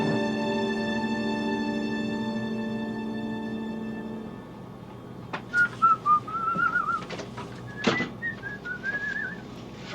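A man whistles a bright, wavering tune inside a plane cabin in flight, the notes coming in short bursts with a steady low hum of aircraft noise underneath.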